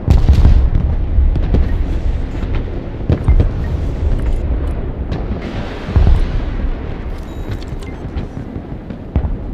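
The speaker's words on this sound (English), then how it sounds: "Grenade launchers there." Grenade launcher fire and explosions in the video game Broken Arrow: a dense, continuous barrage of booming blasts and crackling detonations, loud and sustained throughout, with several sharper hits standing out.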